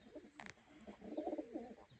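Racing pigeons coo softly and faintly at a flight event, with a brief higher call before the low cooing phrases.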